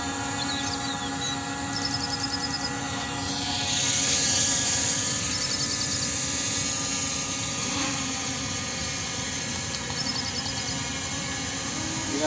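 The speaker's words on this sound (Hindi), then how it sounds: "ये वाला जो ड्रोन है फ्लाई कर रहा है" Two brushless-motor camera drones, an M3 Max and a P18 Pro, hovering nearby with a loud, steady high-pitched whine and buzz that swells slightly midway and holds for the whole stretch, with no talk.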